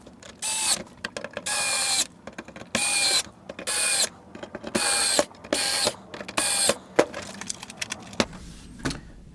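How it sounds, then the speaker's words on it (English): Screws being driven back into an Apple IIc case after repair, giving a series of repeated ratcheting, clicky bursts of a screwdriver in close, loud pulses with short pauses between them. "all that's left to do now is just tighten the screws"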